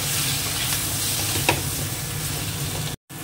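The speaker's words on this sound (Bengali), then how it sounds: "এবার একটু মশলাটাকে কষিয়ে নেবো।" Ground coriander, cumin, turmeric and chilli masala sautéing in a pan, a continuous close sizzle with faint stirring, ending in a brief cut-out before it resumes.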